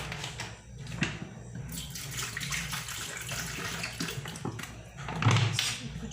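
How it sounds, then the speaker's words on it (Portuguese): Water being poured for homemade watermelon juice, a steady close splashing pour that runs throughout and swells louder near the end, with no talking. "Deixa eu colocar um pouquinho de água aqui."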